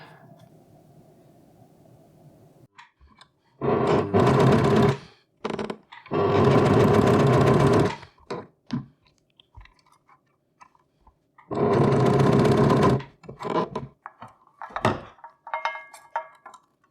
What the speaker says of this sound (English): I'm done with sewing the velcro tape on both sides and on each end.